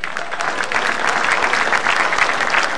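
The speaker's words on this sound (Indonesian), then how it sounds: "Tepuk tangan dong." An audience at a stand-up comedy show breaks into loud, close applause, a dense wash of clapping that swells slightly and keeps going.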